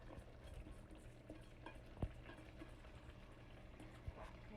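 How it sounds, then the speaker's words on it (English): A spoon stirs rice in a pot for Spanish rice with Spam, giving faint scraping and a couple of soft clinks over a low frying sizzle, quiet and close with no talking. "And you start mixing it. So mixing your rice."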